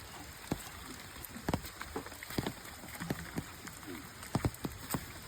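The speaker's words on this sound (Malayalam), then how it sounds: "ഉച്ചയ്ക്ക് പിടിച്ച് മഴയാണ് കേട്ടോ" Rain falls steadily outdoors on a rural Kerala property during the monsoon, a dense pattering hiss with scattered sharper drops and knocks landing close by, no talking.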